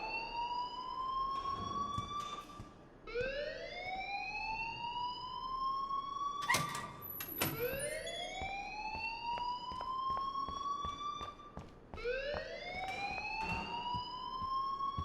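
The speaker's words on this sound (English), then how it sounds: "please turn off that alarm since that's your job" Fire alarm in the video game Life Is Strange wailing loudly and steadily, its rising siren-like sweeps repeating roughly every four seconds for the full stretch, with sharp clicks and knocks scattered over it and no speech.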